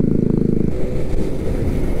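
A Benelli Panarea 125 motorcycle engine on a test ride hums close by, with a steadier tone that shifts to a rougher, throbbing note partway through; no one speaks.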